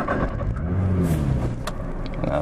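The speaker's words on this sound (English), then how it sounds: "I'm about to go on my first drive in the Nissan GTR, just to experience it" A Nissan GTR engine revs as the car sets off on a drive, a steady mid-pitched roar that rises in pitch under acceleration, close and continuous throughout.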